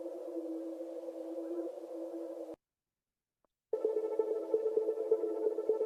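A steady atmospheric pad sample from Splice in a music remix drones with sustained mid tones, cuts out to silence for about a second, then returns with a slightly shimmering texture, with no talking.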